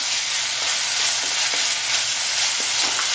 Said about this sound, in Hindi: दो चम्मच लहसुन अदरक का पेस्ट डालेंगे। इसको बढ़िया सोते कर लेंगे।